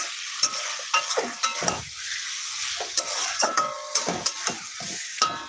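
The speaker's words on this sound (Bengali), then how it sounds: "মশলার সঙ্গে জাস্ট একটু মিশিয়ে নিব।" Taro stolons (kochur loti) are stirred with spices in a frying pan, a spoon scraping and clinking against the pan in irregular strokes over a faint sizzle.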